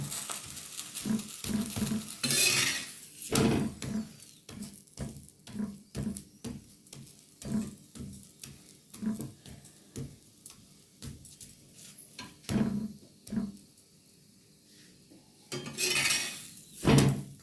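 A stuffed vegetable paratha toasts in a pan, turned to brown on both sides, giving soft repeated tapping and light sizzling in an uneven rhythm, close and fairly quiet, with no talking.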